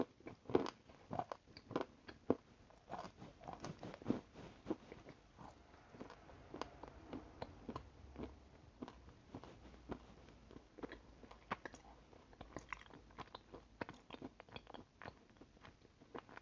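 Edible clay is bitten and chewed up close in a long series of sharp, dry crunches and crumbly bites, irregularly spaced and fairly quiet, with no talking.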